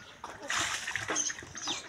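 Water splashing as a child bathes outdoors in the morning, bursts of splashing and pouring in short uneven surges over two seconds, close by, with faint voices around.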